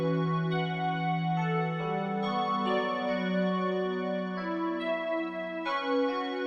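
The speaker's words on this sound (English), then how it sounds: "This one is this Dream Keys preset, and it sounds like this" A Dream Keys synth preset in FL Studio plays a melody of bright, sustained keyboard tones, layered chords changing every second or so, clean and alone with no talk over it.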